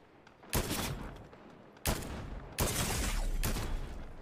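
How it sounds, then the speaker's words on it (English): Gunfire in the Fortnite video game, with several sharp, loud blasts spaced a second or so apart and a rumbling, noisy tail after each one. "Where's the shooting coming from?"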